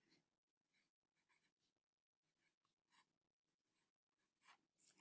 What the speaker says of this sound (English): Mrs. Hensley is going to write her name very neatly.